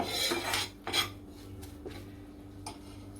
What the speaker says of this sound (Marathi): दूध घालताना एका हाताने दूध घालायचं आणि एका हाताने असं ढवळत राहायचं